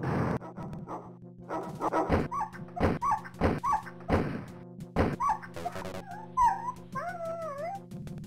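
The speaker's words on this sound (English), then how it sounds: "I hate this game for making me feel bad for blue Nazi dogs." Blue guard dogs in the Wolfenstein: Spear of Destiny shooter bark in a string of sharp, repeated yaps and yelps, with whimpering tones toward the end, all over a steady game hum and with no talking.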